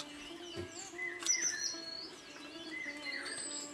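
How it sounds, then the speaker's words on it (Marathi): An Asian koel calls in a village setting, its repeated rising whistled notes fairly faint and distant against a background of other chirping birds. "कुहू कुहू आवाज कोकिळेचा."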